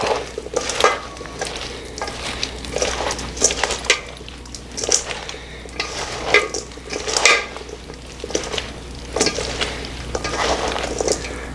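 A spoon stirs roasted potatoes through sour cream in a bowl, a close, steady run of wet scraping and clinking strokes in an uneven rhythm with no talk.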